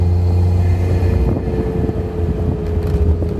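A Suzuki Cappuccino cruises along a road at about 50 km/h, heard from inside as a loud, steady low engine and road rumble with wind buffeting against the microphone.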